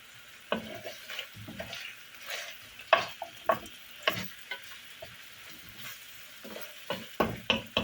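Carrots added to a pan with onions that cooked with meat for a beef meatball tajine, frying with a steady sizzle while a utensil stirs and scrapes in irregular close knocks.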